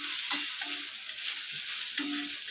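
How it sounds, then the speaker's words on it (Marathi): Onion roasting in a little oil for a spicy chickpea amti, the spoon giving a few soft scraping strokes against the pan at a fairly quiet level over a faint background hiss. "हा कांदा सगळा भाजून घेते"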